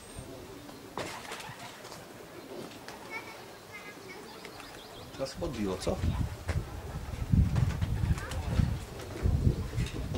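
Racing pigeons come in at a loft on a windy day, with coos, wingbeats and fluttering rising toward the end, while people talk nearby.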